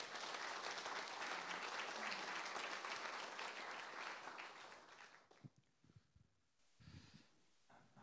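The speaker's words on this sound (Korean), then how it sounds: "환영의 박수 부탁드립니다" An audience at a university honorary doctorate ceremony claps loudly for about five seconds, then the applause thins into a few scattered claps and quiet room noise.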